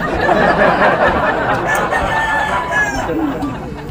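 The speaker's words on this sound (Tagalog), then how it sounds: "meron tayong mga puging manok din talaga dito sa ating backyard" A rooster crows close by in a backyard, a drawn-out call standing out over busy background noise and other fowl clucking.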